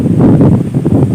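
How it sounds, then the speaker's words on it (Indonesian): Strong wind gusts buffet the microphone outdoors at the ruins of a tsunami-damaged hospital in Aceh, a loud, rumbling, fluttering roar lasting about a second. "Jadi angin agak kencang."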